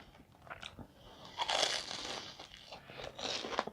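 Crispy fried shrimp tempura breaks into loud, close crunches with each bite, followed by bursts of crackly chewing in an uneven rhythm, with no talking.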